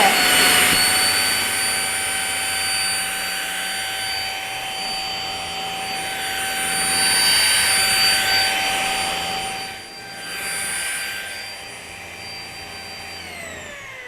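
A loud Deerma anti-allergy mite vacuum cleaner runs continuously with a high-pitched whine and steady motor roar, briefly dipping in pitch before resuming.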